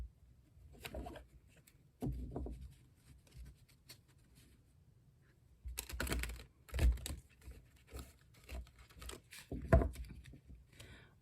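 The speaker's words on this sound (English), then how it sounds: "One more shuffle." Tarot cards being shuffled up close in a few separate bursts of quick papery flicking, with quieter handling and pauses in between.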